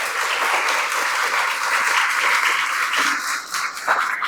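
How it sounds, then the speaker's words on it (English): An audience at an exhibit opening gives military members a big round of applause, steady dense clapping throughout, dipping briefly near the end before swelling again. "Let's give them a big round of applause"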